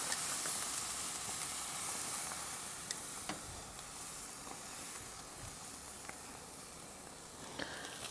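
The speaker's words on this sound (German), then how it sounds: "Da kommen jetzt die Bratwürstchen drauf und kriegen von außen also noch ein bisschen Farbe verpasst." Bratwurst sausages sizzle on a preheated grill grate with a steady, dense hiss and occasional small pops and crackles, close and continuous with no voices.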